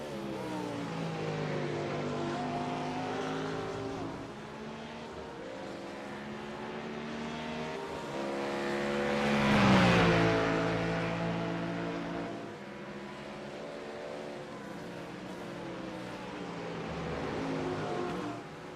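Race car engines in iRacing at Sebring, including a Ford Mustang GT, drone with steady harmonic tones that rise and fall as cars run bumper to bumper, swelling loudest midway as one passes close.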